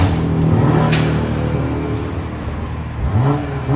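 A 2020 BMW M340i with its 3.0L inline-six on the stock exhaust revs loudly nearby, rising twice and easing off in between, with a fairly smooth, muted tone and no talking.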